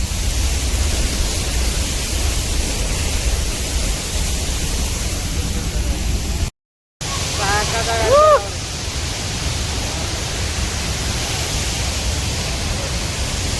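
The Hogenakkal waterfall gives off a constant broad roar of rushing water, with a brief dropout and a short vocal sound partway through.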